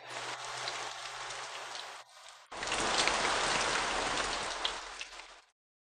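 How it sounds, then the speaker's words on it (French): Heavy rain pours down outside in a dense, steady hiss, dropping away briefly for a moment before surging back loud and continuous, then cutting off at the end. "Il pleut si fort dehors."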